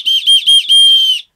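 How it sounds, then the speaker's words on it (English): A built-in whistle on the top buckle of an Osprey Aether AG 70 backpack gives three short shrill blasts, then a longer sustained one, all loud and close with no other sound. "you're never too far away from a built-in whistle, which is on the male part of the top buckle."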